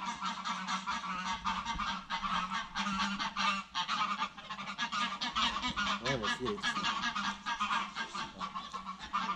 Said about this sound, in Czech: až se teda husy dokejhají